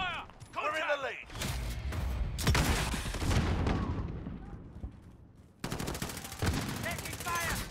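Gunfire from Call of Duty Modern Warfare in a multiplayer match: rapid automatic bursts and single shots crackle loudly throughout, with a brief lull before another dense burst near the end, mixed with game voice callouts.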